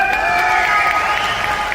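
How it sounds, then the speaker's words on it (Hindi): Audience at a network marketing achievers' event in Gurugram claps steadily and loudly for the full stretch, forming a dense, continuous wash of applause with some cheering mixed in. "ये ताली पैसे पे खरीदा हुआ नहीं है"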